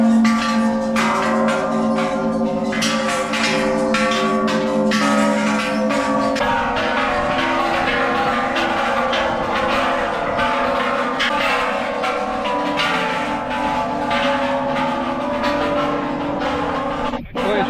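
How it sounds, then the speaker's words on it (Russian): Temple bells struck one after another by visitors on the stairs of the Golden Mount in Bangkok, their bright metallic tones ringing and overlapping in a steady, dense wash. "по пути вы сможете постучать в колокольчики"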